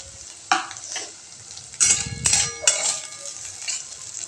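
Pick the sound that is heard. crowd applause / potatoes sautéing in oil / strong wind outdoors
potatoes sautéing in oil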